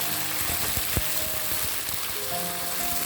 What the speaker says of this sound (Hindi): इसको मीडियम फ्लेम पे अच्छे से फ्राई कर लेंगे